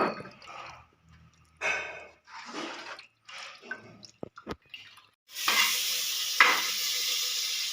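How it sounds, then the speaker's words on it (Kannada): Tamarind pulp for a fish curry is squeezed and mixed by hand in water, giving a series of separate wet squishing bursts, then a sustained louder hiss of liquid stirring near the end. "ಮೀನ್ ಸಾರಿಗೆ ಹುಣಸೆ ಹುಳಿ ಕಲಿಸ್ತಾ ಇದ್ದೀನಿ"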